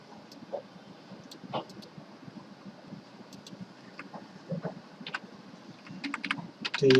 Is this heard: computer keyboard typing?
yes